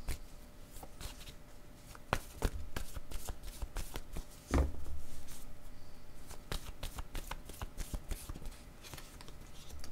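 Tarot cards being shuffled by hand in a steady run of soft riffling slaps and flutters, close and fairly loud, with one sharper knock midway and no talking.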